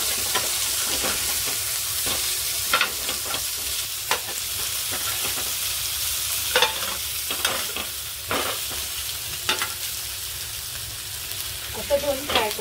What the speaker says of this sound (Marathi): आता आपण एका बाजूने परतून घेऊया।